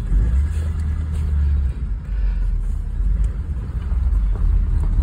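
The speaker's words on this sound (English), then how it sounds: "I can do burnouts on sand and gravel." A 1960 Cadillac Fleetwood driving on sand and gravel, with a heavy, continuous low engine rumble that stays close and loud throughout, with a brief dip partway through.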